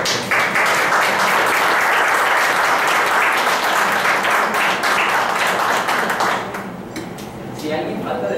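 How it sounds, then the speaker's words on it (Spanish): At a summer music recital, an audience breaks into loud, dense applause that holds for about six seconds before fading as a voice begins speaking. "un aplauso para ustedes"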